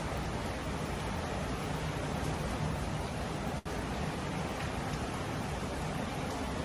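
Rain falls in a steady, dense hiss with no distinct drops standing out, broken once by a brief dropout partway through.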